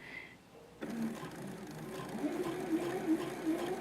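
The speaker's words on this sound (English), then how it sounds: "you're going to sew this flat without it going through the coil" Home sewing machine stitching a rolled hem flat, a steady close whirring run that starts abruptly after a quiet moment and keeps going with a slight rhythmic rise and fall.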